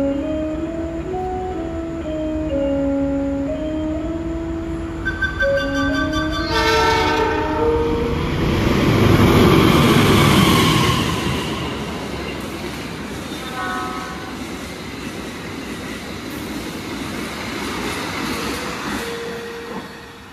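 An Indonesian economy-class passenger train, the Gajahwong, sounds a long horn, then rolls along the rails with a loud rushing rumble and faint wheel squeal, close by.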